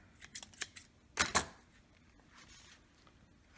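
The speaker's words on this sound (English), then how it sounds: "here's some that have dried, so you just have a little bit of quick trimming to do" Scissors trimming the dried covering on recovered pneumatics from a Simplex player piano, with a few light snips and then a louder, closer pair of cuts before it goes quiet.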